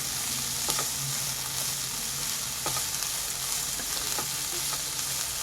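Beans palya with curry leaves and coriander is stirred in a pan, a steady hiss of frying with a few soft scrapes of the spoon, close and continuous and without voices.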